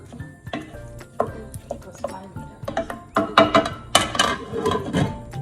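Watermelon rind curry simmering on medium heat in a pan, with irregular stirring scrapes and clinks of a utensil against the pot over a soft sizzle, growing busier toward the end.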